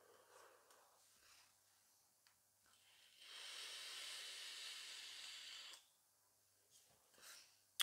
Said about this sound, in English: I'm going to give these both a vape now